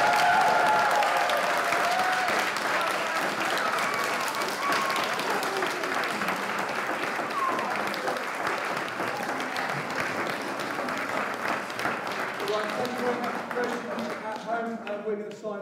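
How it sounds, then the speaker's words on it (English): A school audience gives sustained loud applause after a junior school production, dense clapping from a crowd continuing for the whole stretch and fading slightly toward the end. "So let's give you the biggest and final round of applause."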